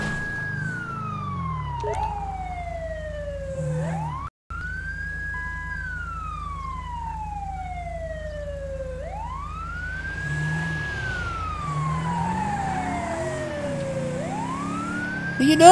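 Ambulance siren in Grand Theft Auto V, sweeping slowly up and down in a long wailing cycle, loud and fairly close over a low engine drone, with a brief dropout midway.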